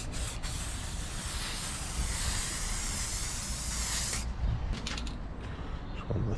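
Steady close hiss of spray paint being applied in a thin coat to a John Deere 4520 compact tractor lift arm, cutting off after about four seconds and followed by a few short bursts.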